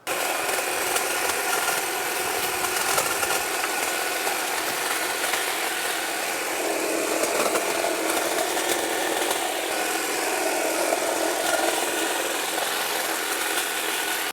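A Stihl HLA 56 long reach hedge trimmer runs continuously, its steady buzzing whine holding an even level throughout, close and loud with only slight shifts in tone as the cutting head works through hedge growth.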